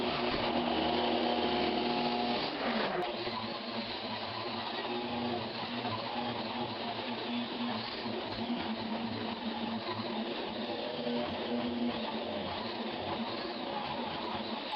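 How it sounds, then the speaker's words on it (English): An angle grinder fitted with a turbo blade grinds down the high edges of a wood subfloor, a steady, continuous whine that persists for the whole stretch at moderate level, with no voices. "So I start to grind in edges because some edge is too high."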